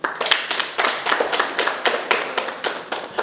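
A small group claps in rhythmic, synchronized bursts, a series of sharp, close hand-claps in a steady cheering pattern with brief pauses between groups.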